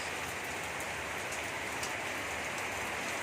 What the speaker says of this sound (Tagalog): ulan tuloy-tuloy ang pabugso-bugso na hangin